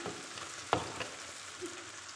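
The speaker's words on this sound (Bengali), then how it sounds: "ও একটু আদা কুচি দেবো মশলাটা ভালো করে নেড়ে চেড়ে নেওয়া লাগবে" Spices with chopped ginger fry in a pan, a soft, steady sizzle with one sharp stirring scrape near the start and faint clinks afterward.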